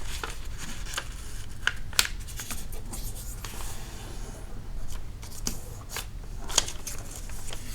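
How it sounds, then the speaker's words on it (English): A paper square being folded into a triangle, with soft rustles, creases and a few sharp crinkles up close over a faint steady background hiss. "So, the first thing we are going to do with the first square is fold it in a triangle."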